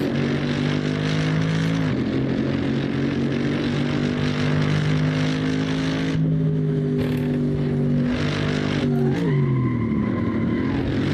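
A BMW engine drones steadily in Assetto Corsa, its pitch dipping and rising as the car slides out through a corner, with loud continuous revving and shifts near the end.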